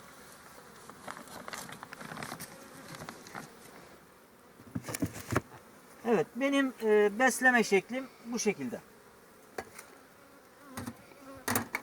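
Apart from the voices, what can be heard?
honeybees buzzing around hive feeder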